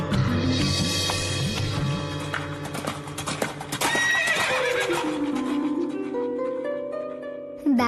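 A horse whinnies loudly and close, its long neigh rising and falling, with clip-clopping hooves over a musical backing that fades to a final held tone.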